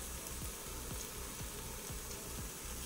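Spices and garlic frying in a pan, a continuous soft sizzle with a quiet, regular rhythm of stirring strokes, close, no talk.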